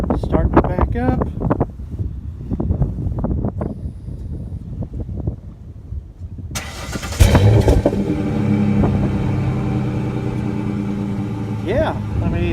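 A 2010 Ford Ranger 4x4's engine rumbles as it backs up, a steady low drone with wind buffeting the microphone, following a stretch of close talking.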